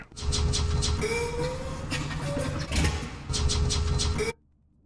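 A B-24 Liberator's number one engine starting in a flight simulator, a loud mechanical churn with a rapid rhythmic clatter, rising and wavering, then cutting off abruptly near the end.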